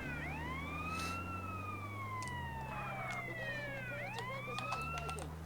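Police sirens wail in GTA San Andreas, rising and falling sweeps that repeat and overlap continuously over a low engine drone, loud and close.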